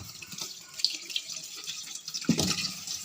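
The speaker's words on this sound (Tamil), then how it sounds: "நல்லா தண்ணி ஊற்றி மண் போக கழுவி எடுக்கணும்." Potatoes being washed under a running tap, water splashing steadily into a sink with a couple of louder splashes as the tubers are rinsed of soil.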